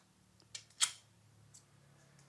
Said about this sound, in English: Tensioner is then released.